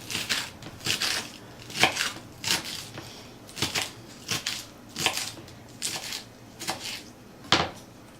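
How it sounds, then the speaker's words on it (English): A knife chops salad vegetables on a cutting board at home, about a dozen crisp, close taps in an uneven rhythm with short pauses between strokes, no talking. "See, it looks nicely chopped like that."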